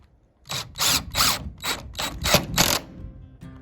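A power drill drives screws into the top track of plexiglass windows for an outdoor kitchen, giving six or seven close, loud whirring bursts in quick succession, each lasting a fraction of a second.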